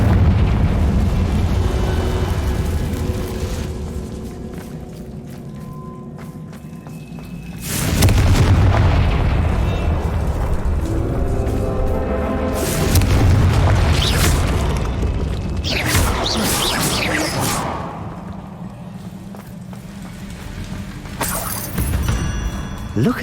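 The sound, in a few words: Confringo blasting spell explosions in video game Hogwarts Legacy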